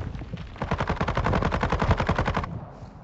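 A fast automatic burst of gunfire in the video game Warzone 2: about two seconds of evenly spaced rapid shots, loud and close, then an abrupt stop into quieter background.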